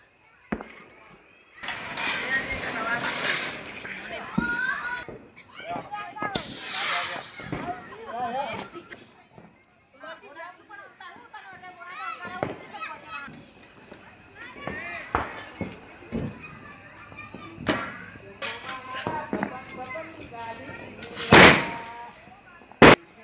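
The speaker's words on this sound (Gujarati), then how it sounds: "આજુબાજુ ટેટા ફૂટશે." Diwali firecrackers bursting nearby, several sharp loud cracks scattered across the clip, over a busy background with people talking and some engine noise.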